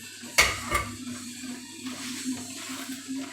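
A spoon scrapes and clinks against a pan while stirring risotto with prawns, sautéed mushrooms and onions, giving a sharp knock followed by soft, wet mixing sounds at close range.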